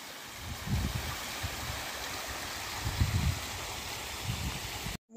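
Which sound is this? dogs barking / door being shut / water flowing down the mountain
water flowing down the mountain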